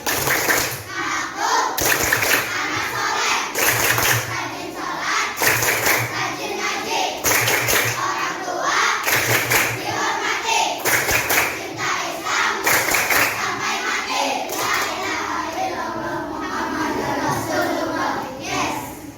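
A class of children claps the rhythmic 'tepuk anak soleh' chant in a classroom, bursts of loud group clapping in a repeating pattern mixed with young voices chanting along.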